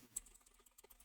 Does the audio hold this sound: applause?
no